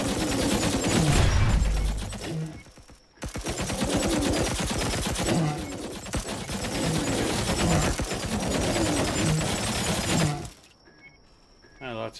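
Turrets in the video game Dysmantle fire in rapid, sustained machine-gun-like bursts, loud and dense, with a brief pause partway through before the barrage resumes and then stops.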